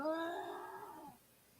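A cat lets out a drawn-out, harmonic yowl or meow during a chase with another cat, loud and close, trailing off after about a second into quiet.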